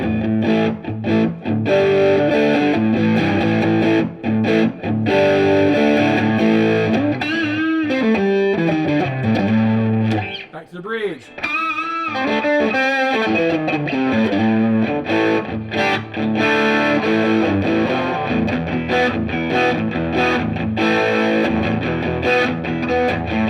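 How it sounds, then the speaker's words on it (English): Distorted electric guitar from a Mexican Strat, played loud and continuous through a Tone Master Deluxe amp and captured by room mics, with sustained chords and a brief pause partway through. A voice speaks briefly. "if we were to hit like a distortion or something"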